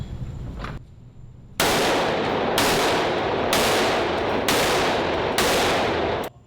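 Four loud, sharp .44 Magnum Desert Eagle pistol shots ring out at a steady pace at a range, each followed by a lingering roar and echo, after a quieter thump at the start.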